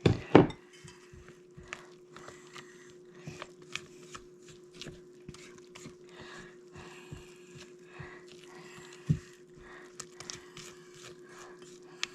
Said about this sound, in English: I'm going to stir in the rest of the flour a little at a time